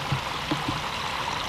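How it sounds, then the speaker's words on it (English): Runoff from several springs on a rural property near a proposed landfill flows quietly in a steady, faint wash of water, with a few soft gurgles in the first half and no voices. "This is runoff from several springs on Bill Henderson's property"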